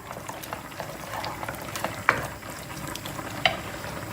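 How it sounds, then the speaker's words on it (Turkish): Cream and tomato paste sauce sizzle and bubble in a pan while being stirred, a soft, steady frying hiss broken by a couple of sharp utensil clicks. "Kremayı da e, sosla beraber şöyle güzelce bir kavuruyoruz"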